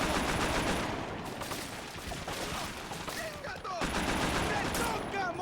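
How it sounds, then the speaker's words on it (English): Rapid gunfire in Scarface: The World Is Yours, dense bursts of automatic shots crackling almost continuously, with a brief dip before the shooting resumes loudly near the end. "Trees in the way, so I can't shoot the people shooting at me."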